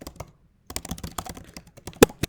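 Search terms typed quickly on a computer keyboard, with rapid close clicking keystrokes after a short pause and one sharper key strike near the end.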